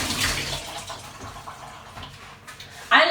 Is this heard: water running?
yes